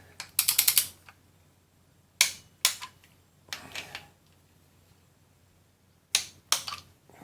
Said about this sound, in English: So I'll just bloody torque them down.